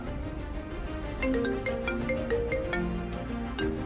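A mobile phone ringtone plays an incoming call from a girl, a melodic sequence of bright tones repeating at moderate volume with faint room noise, no talk.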